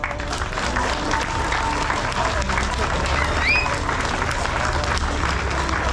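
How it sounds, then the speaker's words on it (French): Crowd applause at a car show awards ceremony, a continuous broad roar of clapping and hubbub mixed with low rumble and a few whistles, with voices murmuring underneath. "On peut les applaudir."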